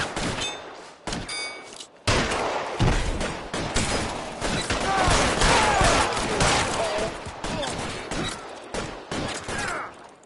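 Rapid gunfire rattles through a shootout in the L.A. Noire video game: a near-continuous barrage of sharp, overlapping shots with brief gaps between volleys, loud and close.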